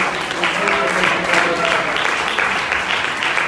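A church congregation claps loudly and steadily during a sermon, a dense sustained applause filling the room, with voices faintly mixed in beneath it.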